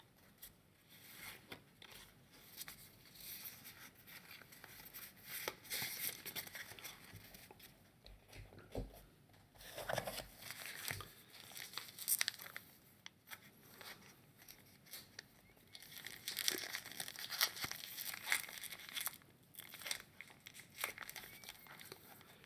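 Crinkly foil Magic: The Gathering booster packs are torn open and crumpled up close for a long stretch, irregular rustling bursts with brief quieter pauses.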